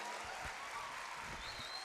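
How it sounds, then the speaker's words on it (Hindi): Audience applause at a poetry recital at Al-Hamra Arts Council in Lahore, a steady wash of clapping from a seated crowd that holds at an even level throughout, with faint voices mixed in. "भरपूर तालियां।"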